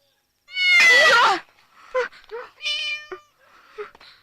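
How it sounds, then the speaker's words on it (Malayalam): A cat in a Malayalam film gives one loud, drawn-out meow close by, followed by several softer, shorter mews and small sounds in a quiet room. "ശൂന്യം പിടിച്ച പൂച്ച."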